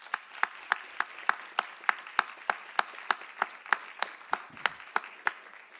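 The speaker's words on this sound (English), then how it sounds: "Let's give them a round of applause." A small audience at a spring social justice symposium gives a slow, steady round of applause for award recipients, the individual claps sharp, evenly spaced and distinct, with sparse participation in a quiet room.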